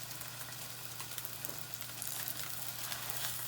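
French toast (pain perdu) filled with chocolate frying in a pan, a steady close sizzle with a constant low hum underneath and no talk.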